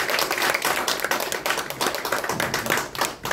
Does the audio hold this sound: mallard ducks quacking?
no